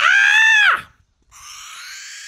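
A barn owl gives one loud, harsh, rasping screech that drops off at the end. After a short silence comes a second, fainter hissing screech.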